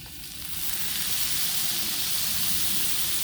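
Steady sizzling hiss of steam rising from pork loin cooking on a Blackstone griddle, swelling in the first half second then holding loud and continuous, with no talking.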